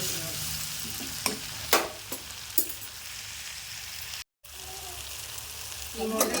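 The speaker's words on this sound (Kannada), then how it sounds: "ಇವಾಗ ಒಂದು ಸ್ವಲ್ಪ ಕೊಲ್ವ ಸೊಪ್ಪು ಒಣಗಿರೋ ಹಾಕಿ ಒಂದು ಸ್ವಲ್ಪ ತಿರುಗಿಸ್ತೀವಿ" Dried greens and onion sizzling in a pan while being stirred, with a soft, fairly quiet frying hiss broken by a few distinct scraping stirs and one short dropout.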